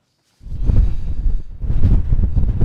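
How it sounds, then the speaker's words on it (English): Strong wind buffets the microphone in loud, rough gusts on a hilltop campsite at Mardale Ill Bell in the Lake District, starting suddenly after a brief silence and briefly easing midway. "Don't want to be hanging about too much on this windy hill."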